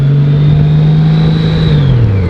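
Motorcycle engine while riding, a steady mid-pitched drone holding constant for a couple of seconds before the pitch drops as the rider eases off, loud and close with no talking.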